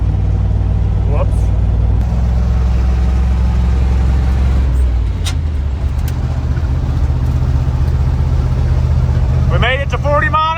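International Harvester Loadstar crew cab truck, parked for 30 years, rumbles loudly and steadily as it drives and gathers speed, a deep engine drone holding throughout with brief clunks and a short voice near the end.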